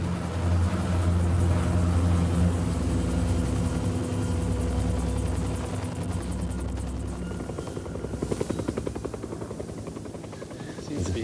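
A helicopter lands at a coca leaf plantation in Peru, its loud, close rotor thump and engine roar running throughout, with the blade chop growing more distinct near the end.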